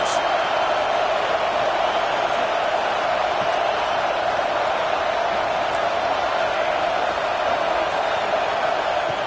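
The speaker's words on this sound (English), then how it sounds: "Listen to the crowd energy here in the early going." A stadium crowd at a football game roars continuously with a dense, even wash of cheering and noise, loud and steady throughout.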